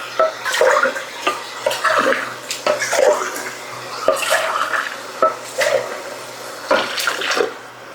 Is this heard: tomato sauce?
yes